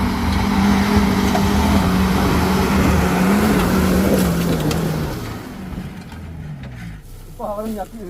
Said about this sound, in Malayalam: വണ്ടി ഇപ്പൊ പവർ വന്നപ്പോഴത്തേക്ക് വണ്ടി തുള്ളി തുള്ളി കയറുന്നുണ്ടല്ലേ